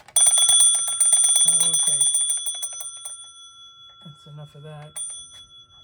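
An antique alarm clock from around 1898–1902, under restoration, rings its bell in a rapid, loud metallic trill that fades after about three seconds, then gives a brief second burst; someone talks over and between the ringing.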